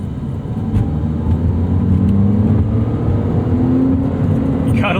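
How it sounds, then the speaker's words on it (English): A 2001 BMW Z3 3.0i inline-six with a ram air intake pulls steadily under acceleration, a loud, smooth, close engine drone rising gradually in pitch, heard from inside the car. "Such a smooth engine."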